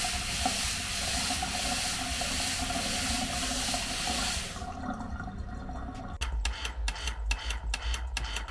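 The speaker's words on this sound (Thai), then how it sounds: "นี่จะเป็นอาการปั๊มทำงานนะฮะ อาการน้ำกระตุก" Faulty pressure tank on a home water pump makes the bathroom sink tap spurt in jerks: steady loud rushing water and hiss for several seconds, then a sudden drop into sputtering, pulsing bursts of flow.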